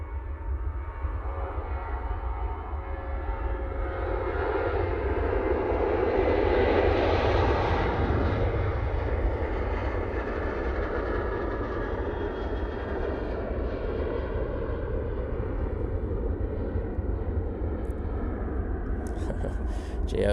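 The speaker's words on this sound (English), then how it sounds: "TUI now departing using the 737-800 by the looks of it" A TUI Boeing 737-800 departs Manchester Airport, its engine roar swelling to a peak and then easing off as it passes, a long continuous rumble with faint voices.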